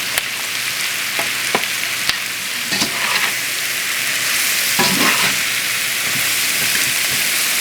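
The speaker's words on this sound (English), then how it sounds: "And now we're gonna add the mushroom." Sliced mushrooms sizzle steadily in a pan for a sausage and leek salad, with a constant frying hiss and several clear scrapes and clatters as they are stirred.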